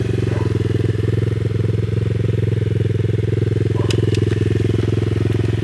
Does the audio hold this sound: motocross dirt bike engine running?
yes